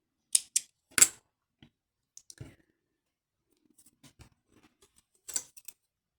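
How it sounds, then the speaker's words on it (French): Scissors snip thread after a small knot is tied on a crocheted bear pacifier holder, giving a few sharp close clicks and snips with short pauses between them. "Couper mon fil et le rentrer."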